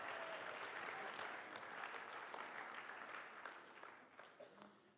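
Audience applause for a person at an Ignite LIVE 2018 talk: a dense, even wash of many hands clapping at moderate distance, sustained for several seconds and slowly thinning toward the end.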